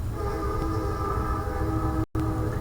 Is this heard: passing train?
yes